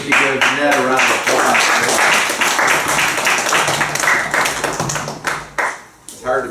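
An audience at a tech demo of Dash and Dot educational robots gives a round of clapping, loud and somewhat uneven at first with people talking over it, then thinning into scattered, separate claps near the end.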